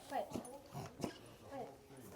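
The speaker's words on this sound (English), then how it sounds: "What are you barking at?" A small dog gives a few quiet, sharp yaps in quick succession at a round barn, with a voice close by between the barks.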